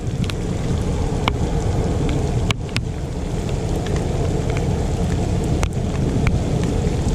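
Steady rain with thunder rumbling during a storm over the Intracoastal Waterway at Dania Beach, a continuous dense wash with a few sharp crackles and a broader rumble around the middle, no voices.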